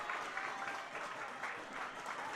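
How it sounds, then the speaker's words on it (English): Crowd at a high school state softball tournament game cheers and applauds steadily, a broad wash of clapping and voices filling the stands at moderate distance, sustained without a break. "you can hear the crowd out there"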